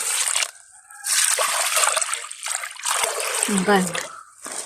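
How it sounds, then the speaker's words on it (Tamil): Water pours and splashes steadily into a container, close by, while cooking prawn curry in a village, with a short pause partway and a voice speaking over it. "நான் இப்போ தண்ணியை ஊற்றி விடுவேன்"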